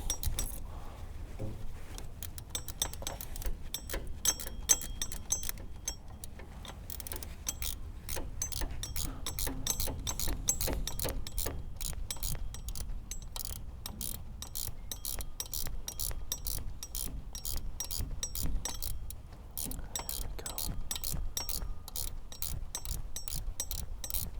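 A ratchet wrench clicks rapidly and repeatedly while tightening bolts on a Honda Accord power steering pump, with bursts of fine metallic ratcheting and brief pauses, close but fairly quiet.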